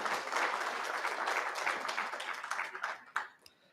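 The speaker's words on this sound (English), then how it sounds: "Let's welcome him with a round of applause." An audience at an Indian Chamber of Commerce event for Krishi Vikram gives a round of applause, dense steady clapping that thins out into a few last scattered claps.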